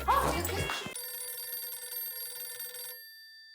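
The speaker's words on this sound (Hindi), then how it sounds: "एक मिनट, सोडी का फोन लग गया।" A phone's electronic ringtone sounds steadily for about two seconds and then cuts off, right after a short burst of voices and movement.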